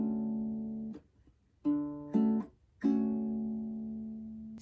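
Baritone ukulele plucking all four strings together in a pluck-pluck-mute rhythm pattern, ringing chords cut off by short muted gaps, close and clear with no talking.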